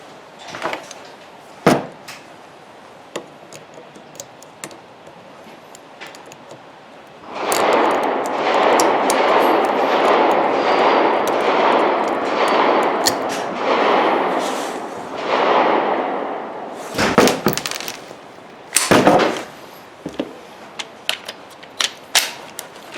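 An Adler RF-224 short-barreled rifle fires a few sharp, loud reports spaced far apart, one near the start and two close together near the end, with a long stretch of rustling handling noise in between.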